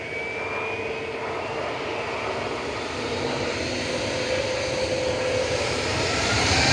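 An Airbus A320neo jet, six years old, roars steadily at Manchester Airport, a broad continuous engine rush with a faint rising whine that grows slightly louder toward the end.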